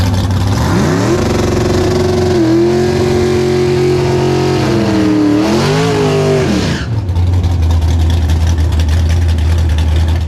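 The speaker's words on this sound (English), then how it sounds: "He's probably going to run a very low 9-second pass at 145 miles an hour" A 9-second alcohol-fueled third-generation Pontiac Firebird and a Tesla Plaid at a quarter-mile drag strip: a loud, sustained engine roar climbs through revs, bends in pitch, then cuts to a lower steady drone, with no talk.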